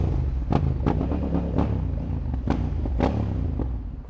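Africa Twin motorcycle in central London traffic, its engine rumbling low and steady while the revs settle back down, with sharp clicks and knocks recurring through the steady drone.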